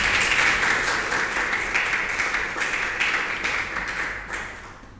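Applause from a classroom of students fills the room continuously, fairly loud and dense, tapering slightly toward the end.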